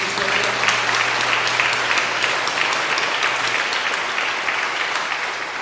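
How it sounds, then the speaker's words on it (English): Audience applause at a school graduation, a steady wash of many hands clapping at moderate loudness throughout, with a faint low hum underneath and no speech. "Let's give them a round of applause."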